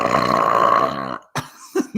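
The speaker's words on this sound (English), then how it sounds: "really enjoying these belches" A long, loud, rumbling belch lasting about a second, close to the microphone, followed by a short silence and a couple of brief throaty sounds.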